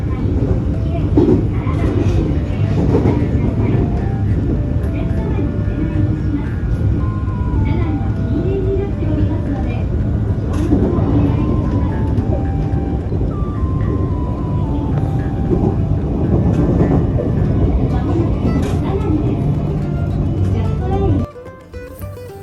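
A dense, steady rumble fills the interior of a moving passenger train, with rattling and faint tonal whines over a constant roar that drops away sharply near the end.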